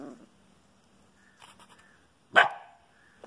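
A pet dog barks once, loud and close in a quiet indoor setting, after a few faint scattered sounds.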